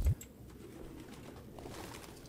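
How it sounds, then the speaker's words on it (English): Pigeons coo softly in a grimy apartment in the video game Detroit: Become Human, low burbling calls over a quiet ambient hum after a brief thump. "Pigeons."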